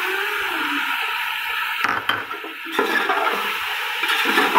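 Tomatoes tipped into chicken frying in a pan for chicken palao set off a steady, loud close-up sizzle that briefly dips and then surges again, with no voices over it.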